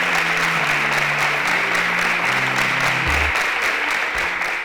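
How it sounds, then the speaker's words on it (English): A large audience at a televised semi-final show claps steadily and loudly throughout, a dense continuous applause with music playing faintly underneath. "Please, a round of applause for them as they exit the stage."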